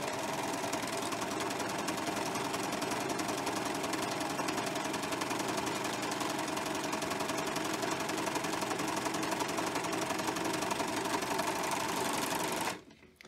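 An overlock serger sewing machine runs continuously at high speed as it stitches and trims fabric, a dense, fast, even mechanical buzz held up close for about twelve seconds before it stops abruptly.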